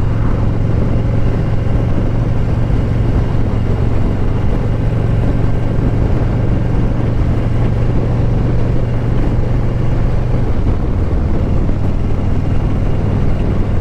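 A 2021 Harley-Davidson Street Glide Special idles with its exhaust valve in the intermediate position, giving a steady, loud, close low rumble that shifts in tone near the end, with no talking.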